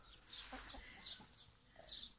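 Chickens in a vegetable garden cluck softly in short, scattered calls, faint and somewhat distant, with a few higher chirpy notes.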